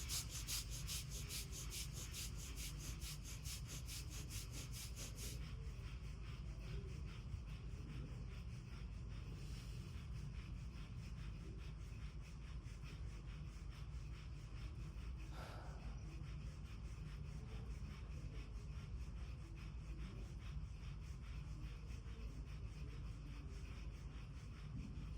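Breath of fire breathing exercise: a steady run of quick, forceful nostril exhalations repeats in an even rapid rhythm for about half a minute, close and fairly quiet, with no talking.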